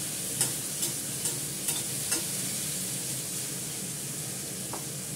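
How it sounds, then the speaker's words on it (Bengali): Vegetables with turmeric frying over a low gas flame give a steady hiss, with a few spoon-scrape clicks near the start and then a quieter, even sizzle. "আমি তাই গ্যাস কমিয়ে করে ফ্রাই করে নেব"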